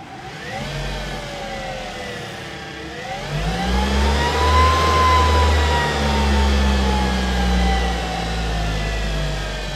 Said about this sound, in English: right now you can hear what the motor sounds like with the new coupler to the transmission